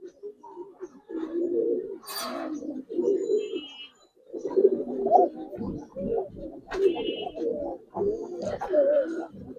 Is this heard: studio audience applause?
no